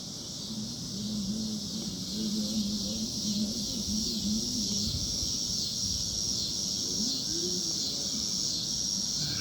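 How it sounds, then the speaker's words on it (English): Cicadas drone steadily outdoors on an August evening, a continuous high buzzing chorus that holds at an even level throughout, with low rumbling ambient noise underneath and no speech. "I heard the cicadas."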